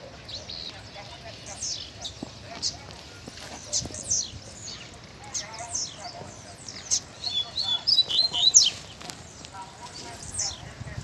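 A pair of small wild birds, a male and female seedeater, chirp outdoors in short, bright, scattered calls over a quiet, rustling background, with footsteps and a person talking faintly at times.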